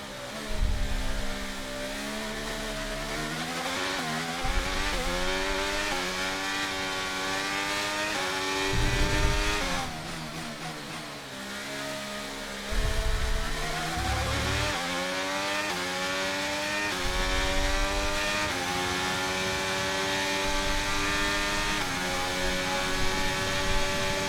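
Formula 1 race car engines in the F1 23 video game: loud, high-pitched engine whine rising and falling through repeated upshifts and downshifts, with brief low thumps between gear changes, continuous and without talk.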